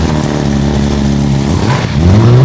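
A superbike engine revs up close and loud, a rough rising roar that climbs again near the end.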